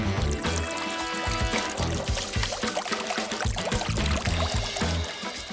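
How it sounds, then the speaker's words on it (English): Colored drinks poured into a giant glass, a continuous splashing, gurgling pour running steadily throughout with no talk, set against a busy, bright background mix. "Let's pour our drinks in there and mix them together."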